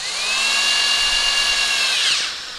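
Power drill pre-drilling a hole into wood at a countersunk spot while building a pegboard tool shelf, one sustained high whine lasting about two seconds before spinning down, close and loud with no talk.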